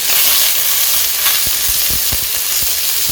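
Mirepoix of carrot, onion and celery, with corn, leek leaves and curd cheese, sizzles in a hot pan as a loud, steady broadband hiss, with a few soft clunks of stirring near the end.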